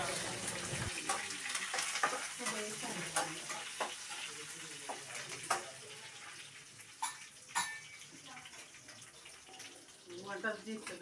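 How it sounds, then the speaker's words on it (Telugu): Chickpeas being tempered with curry leaves in hot oil, a continuous crackling sizzle with sporadic sharper pops, close by, with voices talking intermittently over it. "మా అక్క శనగలు తాలింపు చేస్తున్నారు"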